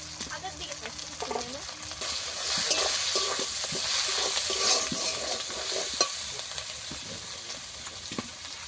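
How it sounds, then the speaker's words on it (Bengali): Ground spices with turmeric and chili powder being stirred and fried in a pan, a steady sizzle with scraping stir strokes, moderately close, rising slightly in the middle before settling. "দিয়ে মশলা ভালো করে কষিয়ে নেব।"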